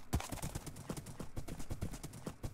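Horses in Minecraft clip-clopping with quick, regular hoof taps at close range, alone without talk.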